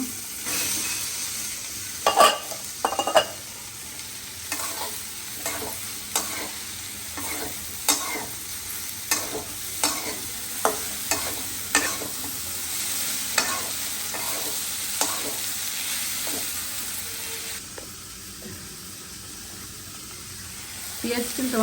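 Prawns frying in a pan, a steady sizzle punctuated by repeated sharp scrapes and taps as a spatula stirs them at irregular intervals, close up, with a few soft voices now and then.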